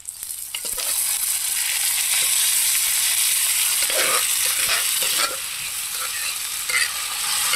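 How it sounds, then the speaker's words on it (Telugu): Washed moong dal and rice tipped into a hot kadai with butter and stirred, giving a steady loud sizzle with scraping spoon strokes and a brief drop in intensity near the end; no talking. "ఇప్పుడు కడిగి పెట్టుకున్న ఈ పెసరపప్పు బియ్యాన్ని మనం ఇందులో వేసుకుంటున్నామండి"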